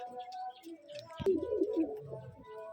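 Rajshahi Giribaj pigeons at a pigeon farm coo in low, throaty bursts, a close sharp clatter midway, with faint background chatter around them.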